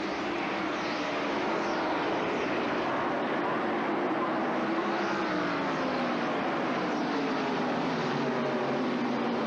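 Stock race cars roar away under the green flag at the 1991 Motorcraft Fast Lube 500, a dense, continuous wall of engine noise holding steady throughout.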